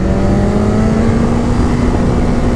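A BMW S1000RR motorcycle revs hard and accelerates on an open road, with a loud, sustained, tonal engine drone and heavy wind rush close to the rider.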